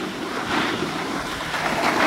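Gusty wind at Loveland ski area on a sunny day, a steady rushing roar with buffeting against the microphone and no voices.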